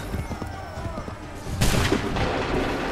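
A volley of musket gunfire in the Assassin's Creed III video game erupts as one sharp, loud crack followed by a rumbling, decaying roar, after a stretch of quieter battlefield ambience with faint voices.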